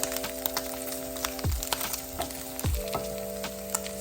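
Ground beef and onion sizzling steadily in a pan, with a couple of scraping stirs and light clinks from a utensil; no talking.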